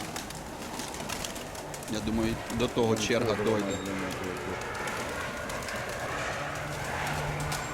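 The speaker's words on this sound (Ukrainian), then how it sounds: "Потім ще оцей, тут ще є голуби." Pigeons cooing in a pigeon loft, low warbling calls that build up for a couple of seconds near the middle while someone talks over them.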